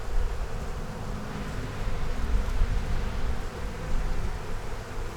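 A swarm of honeybees hums inside an opened hive during an inspection, a dense, steady buzz that fills the clip close by, with no talking.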